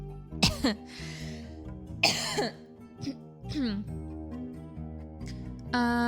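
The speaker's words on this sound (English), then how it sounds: "I feel like I have to cough." Several sharp coughs and throat-clearing bursts, close and fairly loud, breaking up a background of steady tonal music.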